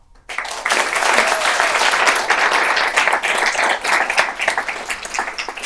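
An audience breaks into sustained applause as a speaker is welcomed onstage, the clapping loud and dense from start to finish after a brief quiet opening.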